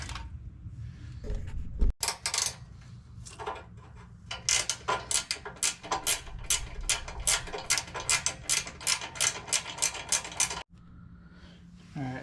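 A ratchet tightens bolts on a 2018 Nissan Titan bumper with a rapid, steady series of close, crisp clicks, sharp at the start and end.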